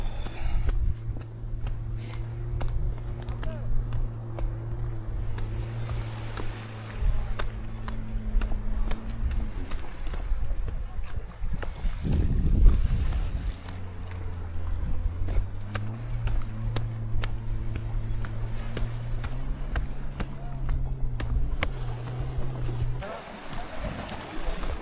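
A steady low engine drone of a boat on the sea near a beach on the Algerian-Moroccan border hums throughout, shifting pitch now and then, with wind noise, people talking over it and a brief bump midway.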